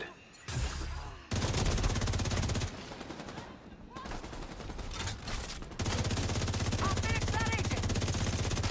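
Sustained automatic gunfire from The Division 2 rattles on loud and close in long bursts, breaking off once around the middle and then resuming, with a few high tonal game effects layered over it.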